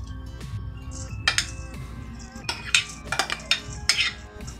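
Kibbeh mixture for a stuffed baked kibbeh is worked by hand in a bowl, giving irregular close clinks and knocks against the bowl with soft squelchy handling between, moderately loud and with no voices.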